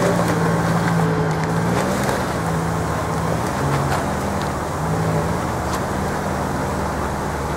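A vehicle drives past near an ice sheet, a steady loud engine drone with shifting low hum throughout, no talking.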